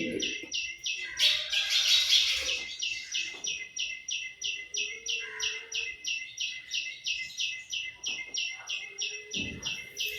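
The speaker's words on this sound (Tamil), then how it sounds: "சிட்டுக்குருவி வந்துடுறாங்க, அனந்தா வந்துடுறாங்க" Indoor house sparrows nesting inside a home give a fast, steady series of close, loud chirps that repeats evenly throughout, with brief light talk at moments.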